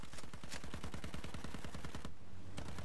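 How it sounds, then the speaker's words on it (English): Rapid automatic gunfire from the video game Battlefield 1 rattles in dense, fast bursts for about two seconds, then cuts off abruptly with a single late shot, loud and close. "I'm just shooting at the objectives"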